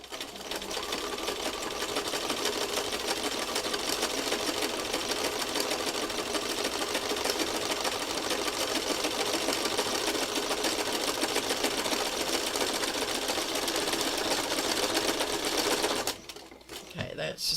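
A sewing machine stitches fabric in one continuous fast, buzzing run for about sixteen seconds, then stops abruptly, leaving a brief quieter moment.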